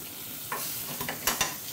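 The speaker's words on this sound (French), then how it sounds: "on va l'arroser tranquillement pendant la cuisson, qui vient redonner une coloration à notre viande" Butter and rosemary spatter as meat is basted in a pan, a steady sizzle punctuated by several sharp spoon-splash bursts in the second half, close and fairly loud, no speech.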